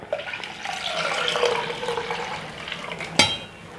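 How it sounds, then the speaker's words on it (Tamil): Water poured into a pot of rasam made with ivy gourd leaves, a steady close splashing and trickling with no talk, ending in a sharp clink near the end. "தேவையான அளவு நம்ம தண்ணி ஊற்றிடலாம்."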